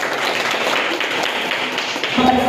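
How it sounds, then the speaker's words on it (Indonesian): A chemistry class claps for a presenting student group, a dense, steady patter of many hands held at one level throughout, with faint tonal ringing toward the end. "Kita tepuk tangan untuk kelompok 1"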